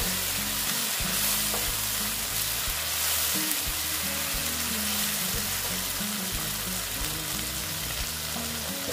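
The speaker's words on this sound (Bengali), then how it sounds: "পোস্তটা দিয়ে একটু আমি ভেজে নেব" Poppy seeds frying in a pan give a steady, close sizzle that carries evenly through the whole stretch, with no voices over it.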